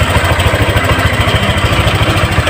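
A Honda Click 125i scooter engine runs at idle, up close during an oil change, with a steady pulsing putter and mechanical whir throughout and no talking.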